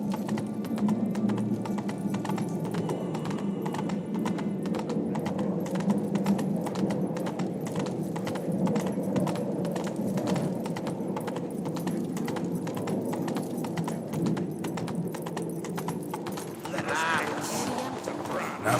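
Roach, a horse in The Witcher 3 game, gallops with a fast, continuous clip-clop of hooves throughout, under spoken dialogue and a game soundtrack.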